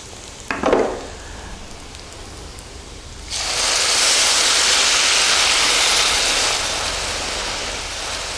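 Water poured into a pan of soya protein frying in oil sets off a loud, steady sizzle that swells suddenly and holds, after a short splash and clink at the start.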